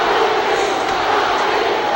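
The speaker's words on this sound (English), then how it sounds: "And you can hear the chant in the background." Boxing crowd at Madison Square Garden chanting for Muhammad Ali during his fight with Joe Frazier, a dense, loud, continuous roar of thousands of voices with no gaps.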